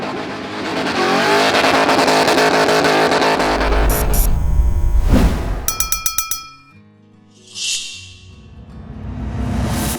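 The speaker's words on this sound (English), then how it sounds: "we're here with the LS powered little Suzuki Swift Swifty" An LS V8-powered Suzuki Swift roars loudly and close up for several seconds. A burst of rattling clinks follows, then the engine drops away briefly before it swells again.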